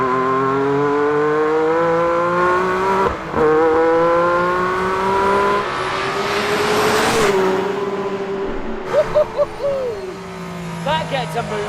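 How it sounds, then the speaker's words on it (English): A 1.6-litre car engine revs hard, its rising and falling pitch close and loud, with a voice talking over part of it and sharp throttle blips toward the end. "It sounds more like a sort of race-tuned V8 at the moment."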